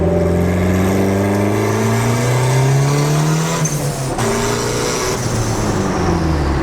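Turbocharged Honda Civic with fender-exit exhaust, revving hard with rising and falling turbo spool, wastegate dump and blow-off valve chatter, loud and close without talk.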